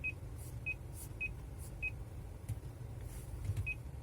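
Infotainment touchpad scrolling beeps in a Mitsubishi Eclipse Cross, short crisp electronic bleeps repeating at irregular intervals, close and clear over a low cabin rumble, with no speech.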